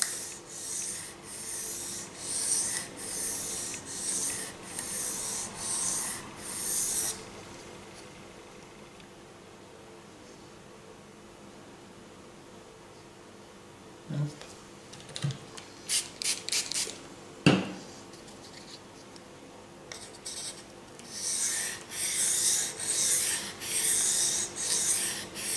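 Ka-Bar KA4065 Dozier knife blade drawn along a Japanese water stone, rhythmic close scraping strokes in regular bursts, a quiet pause with a few light clicks and taps, then the steady strokes resume.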